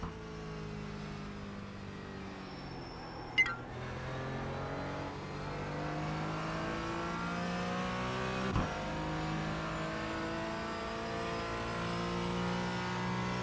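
Race car in the iRacing sim game, its engine droning steadily and falling in pitch through heavy braking and downshifts, with a sharp knock near the start and another midway. The engine note is loud and continuous throughout.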